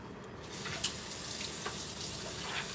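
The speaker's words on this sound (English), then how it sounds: "I'm going to rinse my board off" A cutting board is rinsed under a running kitchen tap, water splashing steadily and close with a few small knocks from the board.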